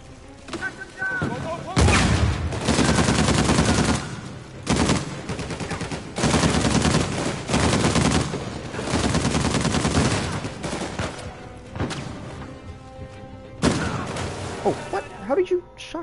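Gunfire in the Uncharted 4 video game, with loud repeated bursts of automatic fire and shots in several long volleys separated by brief pauses, plus scattered impacts.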